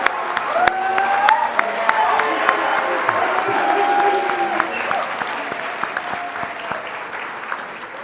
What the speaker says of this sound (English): let's give another round of applause for our electrical and computer engineers